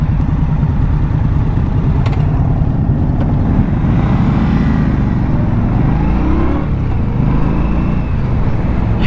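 A 2022 Indian Scout Bobber motorcycle accelerates hard off the line, its loud engine roar and rising revs continuous over rushing wind noise throughout.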